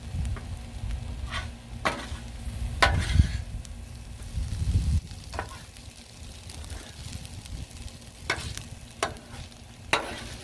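A stir fry sizzles on a griddle in a low, continuous hiss, punctuated by occasional sharp spatula scrapes and taps spaced a second or more apart, close by and without speech.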